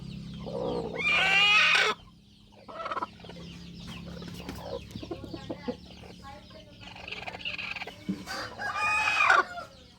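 Hens and roosters cluck and crow among breeding birds on a poultry farm, with loud crowing calls near the start and end and softer clucking in between, under some talking.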